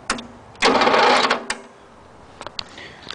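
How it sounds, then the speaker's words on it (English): A worn starter motor on a free used riding mower, powered through jumper cables, cranks with a rough, grinding whir for about a second, then a few faint clicks follow. "I need to change that starter out because it sounds like a piece of fuck."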